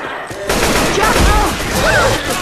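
Rapid gunfire in Left 4 Dead 2, dense overlapping bursts of loud shots crackling continuously at close range with voices shouting underneath.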